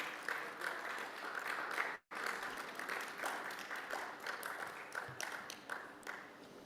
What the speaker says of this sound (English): A round of applause, please, while he comes onto the stage.